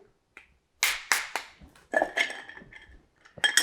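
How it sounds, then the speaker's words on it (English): Ice cubes dropped into a cocktail stirring glass and a big cube cracked, a run of sharp clinks and cracks, close and loud with no talking. "I'm gonna add some ice to our stirring glass. Maybe crack a big cube."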